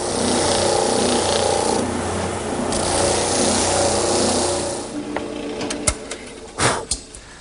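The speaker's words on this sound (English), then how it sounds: "Now I'll just taper the ends a bit here at the bandsaw." A bandsaw in a woodworking shop tapers the ends of wooden cleats for a Queen Anne table, giving a steady, loud whirring motor hum with blade noise for several seconds, then easing off into quieter running broken by a few sharp knocks and clicks.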